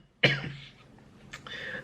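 A single sharp, close cough bursts out and trails off, followed moments later by a second rougher cough or throat clearing, in an otherwise quiet setting.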